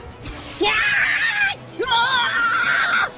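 Two men scream under torture, each scream long, loud and harsh, the two coming in close succession with a brief gap between them.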